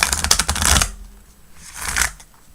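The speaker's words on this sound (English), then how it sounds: "That was a good shuffle." Tarot cards shuffled by hand during a live tarot and oracle reading, a dense riffling flutter for nearly a second, then a softer second pass of shuffling.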